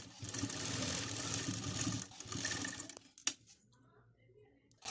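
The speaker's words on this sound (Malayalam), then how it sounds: "അതുപോലെ ഇപ്പുറത്തെ സൈഡ് സ്റ്റിച്ച് ചെയ്തെടുക്കുക." A sewing machine stitches the hem of a small children's fabric mask in a continuous close, rattling run of about three seconds, then halts, leaving a few faint clicks and handling sounds.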